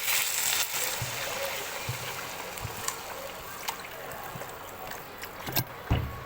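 Water pours into a pan of fried rice and chillies with a steady, close rush and trickle that fades gradually, while a few light knocks sound underneath.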